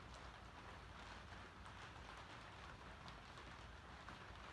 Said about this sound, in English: It's currently raining outside, so the roof is a little bit noisy.